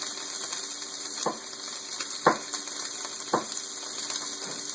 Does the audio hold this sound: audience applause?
no